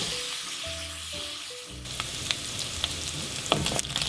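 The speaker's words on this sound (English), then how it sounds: "So we're just letting our bacon brown off." Bacon sizzling and browning in a hot pan, a loud close crackling fry with sharp pops, preceded by a brief electronic tone pattern at the start.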